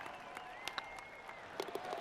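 Crowd applause in the PGA Tour 2K23 golf game at a course, a steady spread of clapping with a few sharper claps and small swells, heard fairly near and alone for about two seconds.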